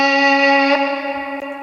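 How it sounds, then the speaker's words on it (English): A sustained, buzzy harmonic tone played backwards, swelling and smeared by a wash of large-room reverb from a reverb plugin, with a soft thump near the end. "we wanted it reversed. And then we wanted to put some reverb on it."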